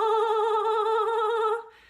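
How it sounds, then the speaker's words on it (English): A solo singing voice holds one sustained note with tremolo, a very fast vibrato whose pitch barely moves, steady and loud for about a second and a half before cutting off abruptly. "I like to call it a tremolo."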